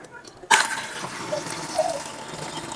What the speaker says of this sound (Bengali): এখন আমি ধুয়ে নেবো এটাকে।